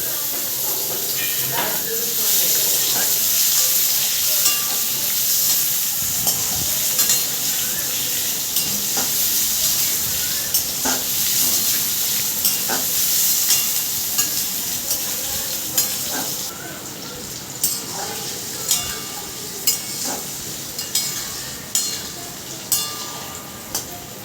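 Diced potatoes sizzle and hiss steadily as they fry in hot oil, with occasional stirring clicks and scrapes, close and continuous throughout.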